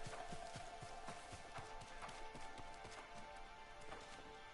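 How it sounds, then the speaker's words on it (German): Hooves of a white horse clop in a steady rhythm in Ghost of Tsushima, fairly quiet and continuous over a soft ambient game backdrop, with no talking. "Schönes weißes Pferd."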